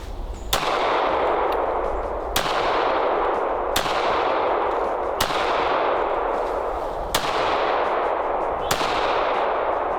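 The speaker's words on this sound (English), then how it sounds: "let's just get into shooting it." Makarov pistol fired outdoors, six sharp loud shots spaced roughly every one and a half seconds over a steady background roar.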